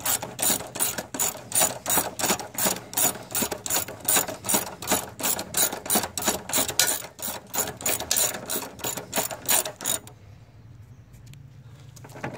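A hand ratchet clicks in a steady, fast rhythm while snugging down CVT transmission bolts on a 2012 Nissan Altima 2.5L, close and loud, then stops abruptly near the end.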